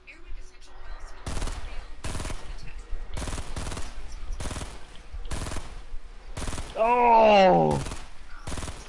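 Video game gunfire aimed at a skybridge rings out in evenly spaced sharp bursts, each a loud crack with a short gap between, while a voice briefly exclaims near the end.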